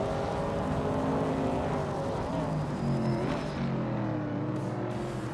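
Race cars, among them 1969 AMC Javelins, roar around a circuit in a racing game, engines revving hard and close with a car sweeping past midway.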